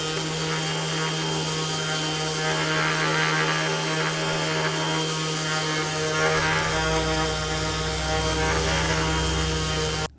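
A budget Amazon 20V brushless orbital sander running at full speed gives a steady, continuous motor hum and whir with a constant low drone throughout, close and fairly loud, with no talk.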